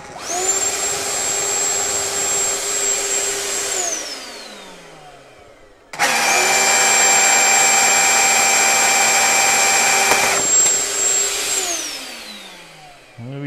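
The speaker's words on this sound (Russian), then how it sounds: "Вот так, включаем пылесос." A Makita DX01 dust extraction attachment's vacuum whirs loudly, spins down, then starts again with a strong steady roar before winding down once more.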